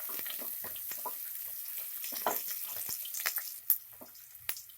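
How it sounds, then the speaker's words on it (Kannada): Chopped onions fry in a pan for chicken biryani, giving a faint, steady sizzling hiss broken by scattered small pops and crackles. "ಕಂದು ಬಣ್ಣ ಬರೋವರೆಗೂ ಈರುಳ್ಳಿನ ಫ್ರೈ ಮಾಡ್ಕೊಳ್ಳಿ."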